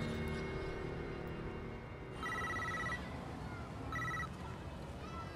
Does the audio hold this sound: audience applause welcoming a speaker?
no